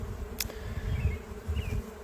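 Honey bees droning low and steady around an open hive box while the beekeeper works them down out of the honey super, a continuous close buzz with a few brief higher whines passing over it.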